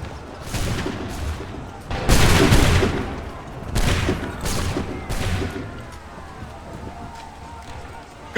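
A volley of musket fire in Assassin's Creed 3 Remastered crackles out in several loud rolling bursts, with battlefield noise filling the gaps and shouted commands mixed in.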